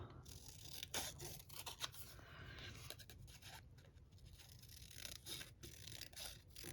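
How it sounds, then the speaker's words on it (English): Scissors cutting paper cutouts for a collage journal, giving a series of crisp snips and rustling slices spread across the stretch, close and moderately quiet with no voices. "So I'm going to cut that out as well."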